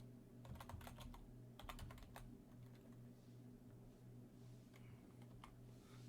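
Soft, quick keystrokes tap on a computer keyboard in a quiet room, coming in short uneven clusters of clicks that are faint and close.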